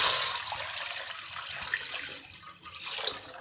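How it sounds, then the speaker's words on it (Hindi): Water pours steadily into a kadhai to boil potatoes for aloo parathas, a close splashing hiss lasting about three seconds with no voices. "आलू उबालने के लिए पानी डालेंगे कढ़ाई में"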